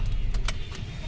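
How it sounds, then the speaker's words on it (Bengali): A car driving on a road near Howrah, heard from inside as a steady low rumble with a few faint clicks and rattles. "আমার গাড়ি এখন চলে যাচ্ছে বাড়ির দিকে"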